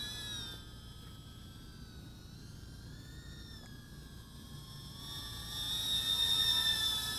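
An Eachine Aurora 90, a tiny brushless FPV mini drone, whines through its flight at a distance, a thin high-pitched motor tone that wavers in pitch and grows louder near the end.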